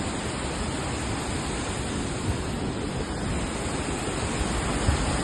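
A loud, steady roar of water pouring over an overflowing dam, continuous and unbroken, with no pauses or other sounds.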